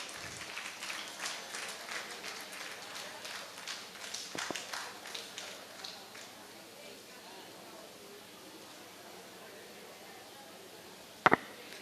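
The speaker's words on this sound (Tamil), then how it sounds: "ராமநாதன் ரொம்ப அறிமுகமானவங்க நம்ம வேலூருக்கு ஜோரா கைத்தட்டல் கொடுக்கலாம்" Scattered crowd applause at a club golden jubilee celebration rises and fades over several seconds, leaving a quiet room with one sharp knock near the end.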